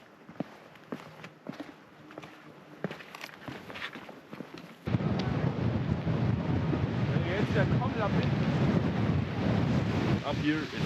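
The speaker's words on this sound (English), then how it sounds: "Up here it's so windy, you cannot even wear your hat" Heavy wind high in the Swiss Alps buffets the microphone, a loud rumbling roar that suddenly intensifies halfway through and stays strong to the end.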